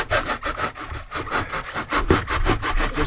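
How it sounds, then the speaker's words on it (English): A hacksaw blade cuts into extruded foam scenery base for a model railroad, giving steady, rapid back-and-forth rasping strokes, close and fairly loud, with no talking. "But if I cut some of this, like this right here, I'll just start a little bit with a hacksaw blade."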